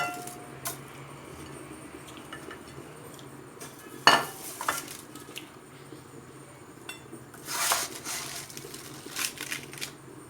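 Crispy oven-baked anchovies are served onto a plate: scattered clinks and scrapes of utensils against dishware, a sharp knock near the middle and a brighter clatter later, over a quiet room hum with no talk.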